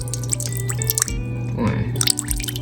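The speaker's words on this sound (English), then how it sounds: "Then we're gonna go in with about 2 tablespoons of soy sauce" Soy sauce poured into a marinade mixture for Peruvian chicken, a brief close liquid trickle and drip among kitchen sounds.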